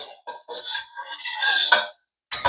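A metal utensil stirs spring onions and green chili through egg fried rice in a pan. Bright scraping and clinking come in short bursts separated by brief pauses, close and fairly loud with no talk.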